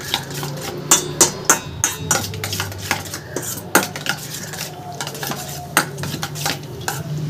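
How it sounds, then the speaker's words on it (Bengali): A utensil beats egg into chopped vegetables in a bowl, producing rapid, irregular clinks and scrapes of metal on the dish, close and clear, with no talking. "সব সবজির সাথে ডিমটাকে এবার ভালো করে একটু মিশিয়ে নেব।"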